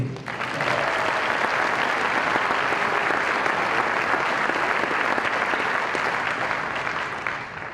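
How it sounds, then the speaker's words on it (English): A large audience at an awards night gives sustained, loud applause for graduating seniors: a thick, even wash of clapping that swells quickly and holds for several seconds without speech. "Let's give a round of applause to class of 2018."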